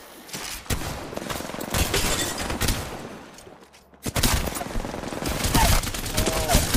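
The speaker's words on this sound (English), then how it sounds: "I'm shooting at him to distract him." Rapid, dense gunfire in the Apex Legends video game, with continuous bursts of shots filling the clip, a brief lull in the middle, then another sustained volley.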